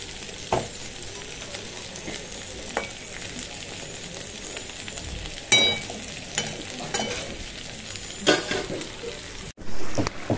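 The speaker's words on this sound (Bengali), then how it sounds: "আর এই কড়ার মধ্যেই মাছটা বসিয়ে দেবো," Bombay duck (loitta fish) sizzling in hot oil in a wok over high flame, with a steady crackling fry and a few louder spits and pops.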